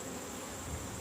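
Honey bees buzz around an open hive in late summer, a faint continuous hum with no break and no voices.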